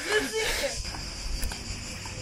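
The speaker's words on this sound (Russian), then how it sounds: "Цикады, ё-моё." Cicadas buzz in a steady high drone outdoors in Athens, Greece, moderately loud, while someone talks over them at the start.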